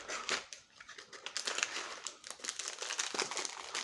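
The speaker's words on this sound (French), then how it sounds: "On va ouvrir le paquet." A crinkly plastic packet of raspberry sweets is torn open by hand, producing dense, close rustling and crackling that rises and falls in bursts with no voices.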